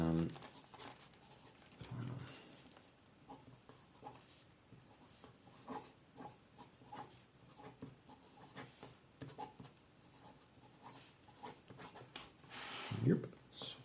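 Pelikan M1000 fountain pen writing a few words on paper, faint scratchy nib strokes under intermittent talking, with a soft thump near the end.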